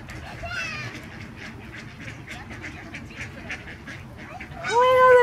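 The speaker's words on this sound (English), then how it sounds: "Oh my God, there's so many ducks." Ducks and geese call in a busy flock, scattered quacks and honks, ending in a loud, close honking burst; voices murmur faintly underneath.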